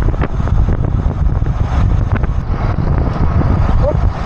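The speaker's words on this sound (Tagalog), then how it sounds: "Malakas sa hangin, no?" Strong wind roars and buffets against the microphone during a motorbike ride on a mountain road through the Sierra Madre via Pililia, Rizal, a constant low rumbling rush with no speech.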